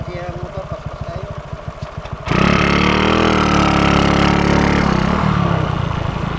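A motorcycle idles with a quick, even putter on a rural ride toward a cave, then revs up abruptly to a loud, sustained engine roar that holds and slowly shifts in pitch as it pulls away. Close by and running continuously.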